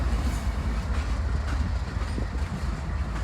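CSX freight train cars roll steadily past at close range, a continuous loud rumble with faint rhythmic wheel clatter and no voices.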